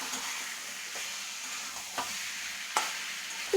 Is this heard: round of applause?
no